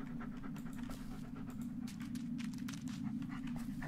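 A dog in the video game Blair Witch pants rapidly and steadily, close and clear, in a continuous rhythmic huffing with no talk over it.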